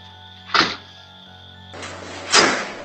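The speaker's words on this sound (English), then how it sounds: "we can hear the door closing, perfectly matched on both cameras." A door closing, heard through a security camera's microphone: two soft thuds a couple of seconds apart over a steady background hum.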